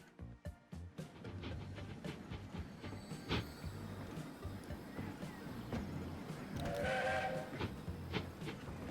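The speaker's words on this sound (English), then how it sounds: "it is a European locomotive with American wagons on it" Simulated European locomotive hauling American wagons in the video game Transport Fever 2: a continuous rumbling roll with rhythmic wheel clacks, and a brief whistle-like tone rising above it partway through.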